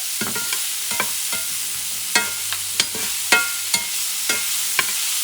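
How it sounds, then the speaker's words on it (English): Tiny pieces of chopped chorizo fry in a pan, a steady sizzle broken by repeated scraping knocks as the pieces are stirred, several sharp clatters spaced through the stretch with no talking. "I'm going to add some chorizo, which is chopped in tiny pieces."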